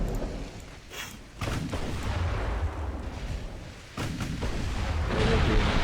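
Warship turret guns firing in the naval game Ultimate Admiral Dreadnoughts, deep booming salvos that rumble on in a continuous roar with sharper blasts near the start and around the four-second mark, loud and with no talking.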